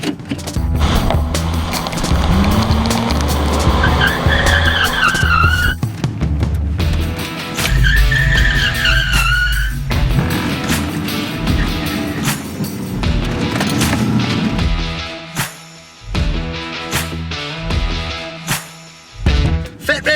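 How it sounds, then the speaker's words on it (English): A Holden Commodore drifts around cones, the engine roaring and revving loudly with repeated tire squeals and skids, broken by brief lulls and bursts of acceleration. "Drifting! drifting! Fat man drifting!"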